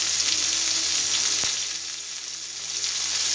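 Chicken sticks fry in oil in a pan, brushed with a little oil now and then, making a continuous close crackling sizzle with one sharp tap midway and no voices.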